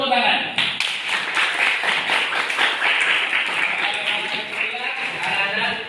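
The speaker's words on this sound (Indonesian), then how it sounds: "Tepuk tangan." A whole class of students clapping their hands together in a classroom, a dense, loud and steady patter of many overlapping claps lasting several seconds, with voices mixed in.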